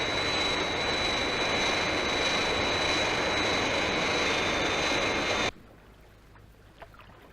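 A jet airliner roars loud and steady as it takes off, with a high whine over the broad engine rush, then cuts off abruptly to near quiet.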